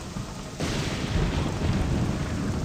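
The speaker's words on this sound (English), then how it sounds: "my apologies if the lightning is too loud. I think I have just the basic lightning sounds" Thunder from lightning in the video game Morrowind, a sudden loud rumbling crack that breaks in after a moment and rolls on steadily and close under rain-like noise.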